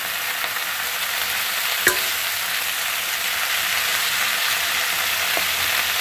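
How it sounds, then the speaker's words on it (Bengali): Washed spinach goes into a hot pan for spinach dal and gets stirred, giving a steady broadband sizzle with one brief clink from a utensil near the start, no voices. "এবার আমি ধুয়ে রাখা পালং শাকটা এর মধ্যে দিয়ে দেবো।"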